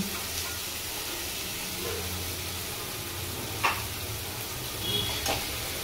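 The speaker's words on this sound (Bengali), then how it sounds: "এবার আমরা এর মধ্যে দিয়ে দেবো টক দই।" Spices sizzling in a pan after sour yogurt goes in, for a mutton trimmings dish: a continuous close hiss and crackle with a few sharp spatters and stirring scrapes, no talking.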